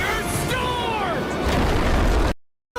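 A meteor slam ability in a video game lands with a loud, sustained explosive boom and crackling debris, swelling then cutting off abruptly into silence.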